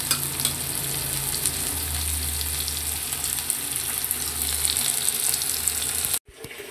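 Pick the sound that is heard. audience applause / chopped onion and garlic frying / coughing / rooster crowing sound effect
chopped onion and garlic frying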